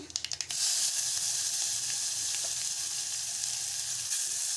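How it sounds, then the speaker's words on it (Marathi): Cumin seeds and asafoetida hit hot oil with a quick burst of crackling pops, then settle into a steady, even sizzle that carries on with a few faint clinks. "पाव चमचा जिरं घालत आहे दोन चिमूट हिंग घालत आहे"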